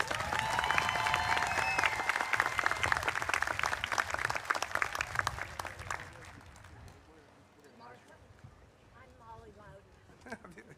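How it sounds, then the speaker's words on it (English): A commencement audience at the 2024 Goodwin University ceremony applauds loudly for about six seconds. The clapping then fades out and a speaker begins talking over the quieter hall. "Can you please give them all one more round of applause?"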